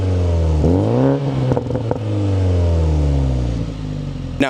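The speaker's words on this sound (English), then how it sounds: "even on a stock tune, it can be able to have some pops to it" Toyota Supra 2.0 four-cylinder revving close by, pitch climbing and falling through several rev sweeps, with crackling exhaust pops as the revs drop, alone with no talk.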